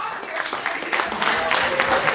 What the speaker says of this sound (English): I want you to give a round of applause to the most important people in this room, you who have the vote.